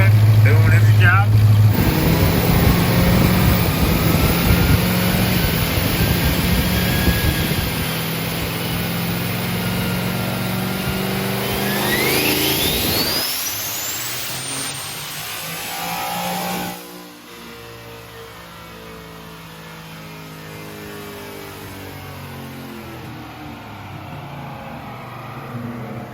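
A single turbo work truck engine with a billet turbo wheel, loud and sustained as it revs and the turbo whine rises, then falling back to a lower idle-like drone, with voices talking over it.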